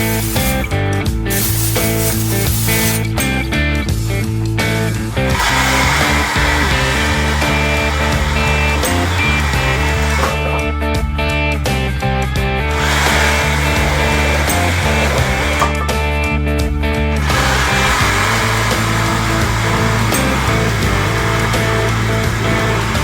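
Power saw cutting through a thick wood slab meant for guitar bodies, a loud sustained whining drone with brief dips and restarts as the blade works through the timber.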